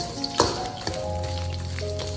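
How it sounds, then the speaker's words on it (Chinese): Whole spices stir-fried in warm oil in a wok make a close, steady sizzle, with a sharp clatter of the stirring utensil early on and a softer knock just after. "油微热的时候，把香料全部倒下来炒香"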